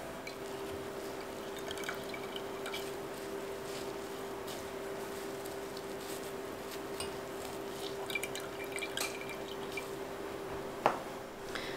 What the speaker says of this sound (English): I'm just gonna strain as much of the liquid back into the jar